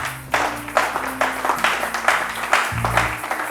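A church congregation claps rhythmically in steady, repeated bursts over a low sustained musical drone, loud and close.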